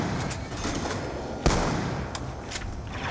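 Rifle fire in the zombies mode of Call of Duty Black Ops 2, sharp shots popping at irregular intervals over a dense background din, one crack louder and closer than the rest.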